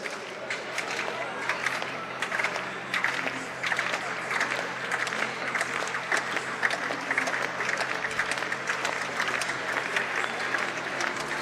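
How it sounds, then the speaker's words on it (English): An indoor athletics championships crowd applauds an athlete in a steady, moderately loud patter of clapping that fills the arena throughout, with faint voices mixed in. "So crowd now applauding her in the purple and the"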